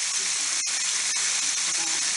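Okra frying in hot oil: a continuous bright sizzle and hiss, steady and close, with a couple of faint crackles and no voices.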